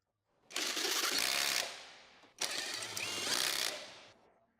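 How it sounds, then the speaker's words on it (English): An impact wrench with a 19mm socket drives a motor mount bolt and nut on a 2006-2011 Honda Civic, in two close, loud, sustained buzzing bursts separated by a brief pause. "Tighten with the 19mm socket on the impact."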